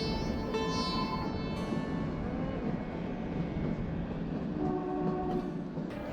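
A Kalka–Shimla toy train rumbles steadily along the narrow-gauge rails with a continuous low mechanical drone and faint high whining tones, no voices.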